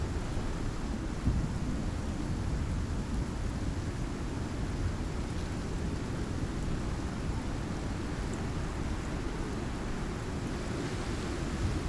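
Heavy rain and rolling thunder from a storm in the survival game Icarus, a dense unbroken wash of rainfall with a deep rumble beneath, loud and close throughout.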